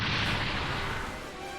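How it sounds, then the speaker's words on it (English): A loud, broad explosion from the video game Super Robot Wars 30 bursts in at full strength and then rumbles and fades slowly over a second and a half, heard alone. "Whoa, was that an explosion?"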